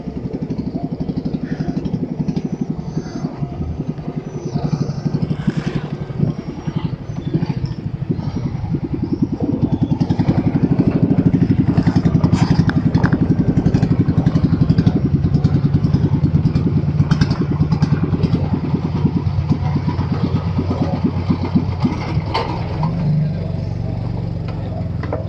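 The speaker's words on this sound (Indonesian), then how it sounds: "Nah, sudah di start tuh mesin, siap ngebut perinya." A river ferry's engine runs steadily on the flooded Mahakam River, a close, loud, rattling motor drone with clattering that holds throughout, with a voice faintly beneath it.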